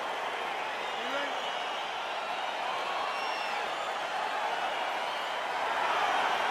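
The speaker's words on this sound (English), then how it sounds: "crowd getting excited as this fight gets underway" An arena crowd in the UFC 4 fighting game roars and cheers as a bout begins, a broad wash of distant crowd noise that swells slightly near the end, with a commentator talking over it.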